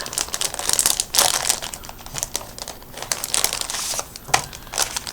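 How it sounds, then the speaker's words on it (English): Card stock being pulled out of crinkly packaging, giving a continuous run of loud, close crackling and crumpling bursts with short pauses between. "sorry about the crinkling"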